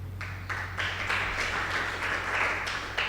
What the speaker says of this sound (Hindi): अभी भी आपने ताली बजा दी